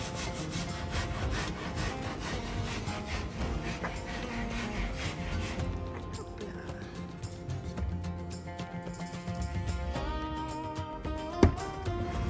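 A hand saw cuts through wood to make a cutout for a small window, with rhythmic rasping strokes that slow and change texture midway, ending with a sharp knock; close and fairly quiet with no speech.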